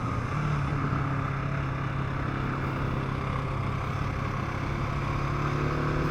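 A 2023 KTM 690 SMC R motorcycle on Bridgestone S21 tires drones at a steady engine pitch under strong wind rush, heard from the rider's position with no talk.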